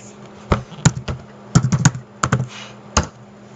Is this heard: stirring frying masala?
no